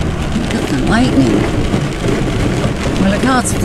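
Heavy rain pours across a flooded area during a rainstorm, a dense hiss with low rumbling that fits distant thunder, while someone talks briefly over it.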